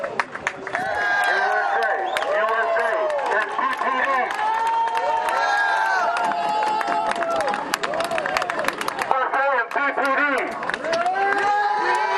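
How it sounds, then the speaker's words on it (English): A large crowd cheers, whoops and shouts continuously at a police barricade as an ambulance passes, with scattered clapping and excited voices close by. "this is applause that happened as the ambulance carrying the suspect came through the police barricade"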